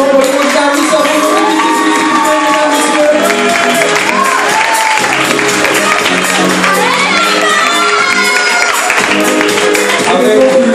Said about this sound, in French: Merci de faire un tonnerre d'applaudissements pour les candidats à Mister Réunion